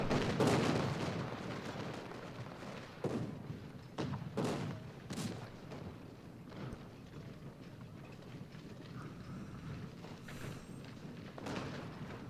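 Cannon artillery fire from the Civil War video game Ultimate General: Gettysburg: scattered distant booms and thuds, some in quick clusters, over a low battlefield rumble.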